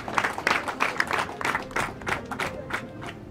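A crowd at a Rwandan wedding claps and ululates for the mother, with rhythmic bursts of cheering and clapping rising and falling at a moderate level.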